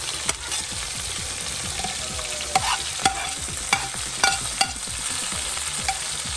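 Jalapenos, ginger, tomatoes and celery frying in a soup pot, a steady close sizzle with a few sharp clinks and stirring knocks scattered through it, no voices.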